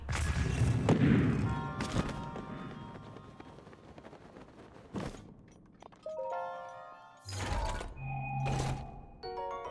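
Bombs exploding in the video game The Legend of Zelda: Breath of the Wild, several heavy thuds and bursts spread across the stretch amid game effects and chiming tones, moderately loud with no speech.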